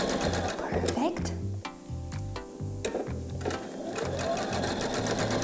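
Sewing machine stitching fabric for a single welt pocket, with a fast rhythmic mechanical chatter in short bursts, brief pauses and quick reverse backstitching, close and clear.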